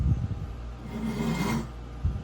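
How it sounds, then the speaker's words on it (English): A metal file rasps over the cut end of a copper pipe to remove burrs. A few short scraping strokes sound up close and fairly quiet, with no talk. "we're just gonna take our file and gently get rid of those burrs"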